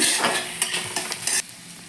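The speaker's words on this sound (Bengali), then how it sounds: "এবার একটু ভাজে ভাজা করে নেবো এগুলো" Chopped onions and green chillies fry in a pan for egg chops, a close, steady sizzle broken by several scraping stirs, with no talking.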